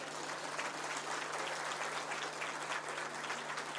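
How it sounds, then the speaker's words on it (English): An audience at a climate-finance event at KICC in Nairobi gives a dense, continuous round of applause, steady and fairly distant, with no pauses for its whole length. "I promise you they deserve a better round of applause."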